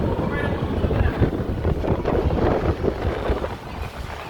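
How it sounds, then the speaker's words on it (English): Strong wind buffets the open deck of the cruise ship Mariner of the Seas, a loud, steady gusting roar across the microphone, with faint voices mixed in. "You're feeling the wind now."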